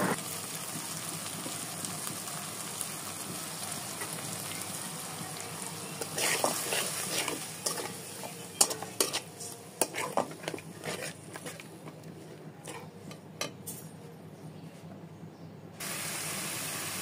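Ginger-garlic paste, cumin paste and mixed spices are stirred in a pan for a koi fish curry: a quiet frying hiss with a run of scraping, knocking spoon strokes partway through and no talk.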